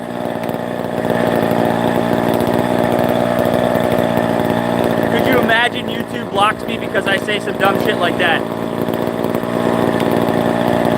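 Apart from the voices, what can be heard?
chainsaw engine running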